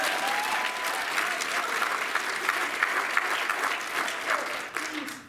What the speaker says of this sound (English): Big round of applause for the stage.